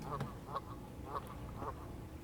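Several ducks quack outdoors in a short series of nasal calls, faint and somewhat distant against a soft background hiss.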